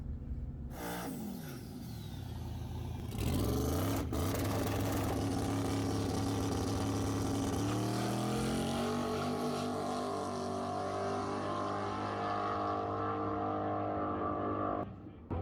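A drag race car makes a pass at Lubbock Dragway, its engine building from a low idle into a loud, sustained roar that holds steady, then cuts off abruptly near the end.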